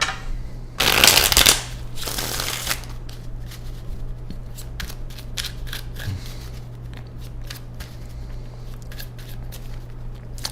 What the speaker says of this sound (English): I'm gonna do one shuffle